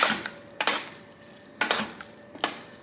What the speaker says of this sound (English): So I'm just stirring it up, if you can see.